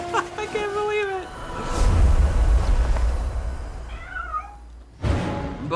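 Red-orange cat meowing in the Dark Romance 7 game, two short rising mews that stand out among other game sounds, with a person talking and a low rumble in between.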